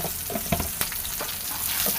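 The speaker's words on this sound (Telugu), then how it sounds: "పచ్చిమిర్చి అండ్ కరివేపాకు ఒక నిమిషం వేగనిద్దాం" Green chillies and curry leaves fry in hot oil in a pan, a continuous crackling sizzle with a few sharp pops and light stirring clicks, close and steady with no talking.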